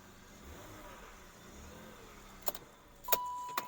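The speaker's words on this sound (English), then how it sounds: "And that's a cold engine that's been sitting for, I don't know, 18 hours." A cold BMW E39 525i Touring engine idles after sitting overnight, a low, steady, quiet rumble. A few sharp clicks and a short electronic tone come near the end.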